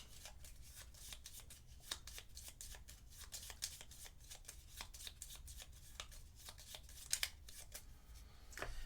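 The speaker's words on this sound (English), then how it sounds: "shuffle these up" A deck of playing cards is shuffled during a solo board game session, with a long run of quiet, crisp riffling and snapping card sounds close by and no talk.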